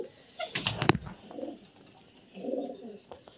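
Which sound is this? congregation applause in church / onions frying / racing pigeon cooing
racing pigeon cooing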